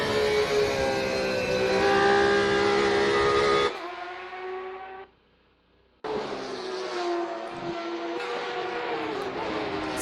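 Loud, sustained video game racing engines roar and whine with shifting pitch in a multiclass race on a bumpy track, cutting out briefly mid-way before revving back up just as strongly.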